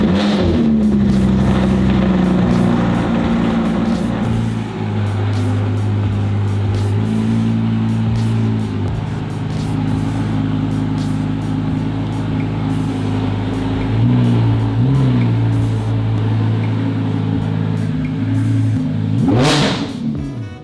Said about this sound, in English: A true cold start, this car is loud.